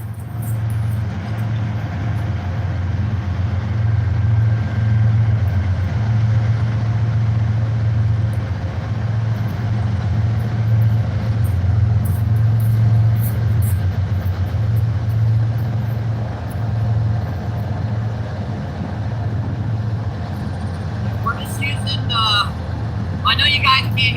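A freight train hauled by two locomotives rolls past a fishing spot near St. Louis, its deep, steady engine rumble loud and close, droning continuously without a break.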